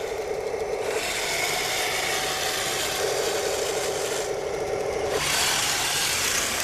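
An RC Panther tank model with metal tracks runs at full throttle outdoors. A steady, loud electric whine and gritty track clatter continue unbroken, shifting in pitch twice, with no voices.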